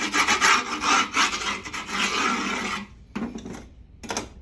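Sandpaper rubbed along the griptape edge of a skateboard deck to shape its contour, in close, loud rasping strokes that run continuously, then break off into short separate scrubbing bursts with gaps between.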